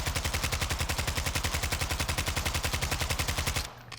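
A Kastov 74u rifle in Modern Warfare II empties a full magazine in one unbroken burst of rapid, evenly spaced shots, loud and close, stopping abruptly near the end.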